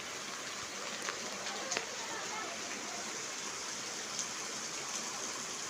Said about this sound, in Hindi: सुबह सुबह इतनी ज़्यादा बारिश हो रही है कि सड़कों पे सैलाब सा आ चुका है